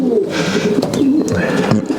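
Racing pigeons in a breeding loft give soft, low, rolling coos that are close and continuous and overlap one another, with occasional wing flutters and small clicks in the background.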